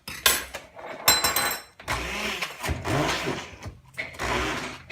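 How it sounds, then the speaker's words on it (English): Ingredients for shrimp and grits are ground in a kitchen, short repeated whirring and clattering bursts with brief pauses between them, close and moderately loud. "I'm going to keep grinding it because you can see there's still big chunks"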